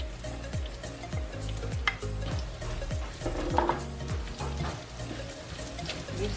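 Ginger stir-fried in a pan for a spicy sotanghon soup, sizzling steadily in hot oil while a utensil scrapes and stirs in a repeating rhythm, close and fairly loud.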